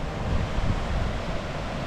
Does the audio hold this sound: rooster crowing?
no